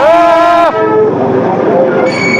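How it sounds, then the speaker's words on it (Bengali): The Darjeeling toy train on Hill Cart Road sounds a loud, close horn blast that cuts off after under a second, followed by rumbling, clattering running noise as it passes. "হিলকার রোড, এই দেখো টয় ট্রেন যাচ্ছে।"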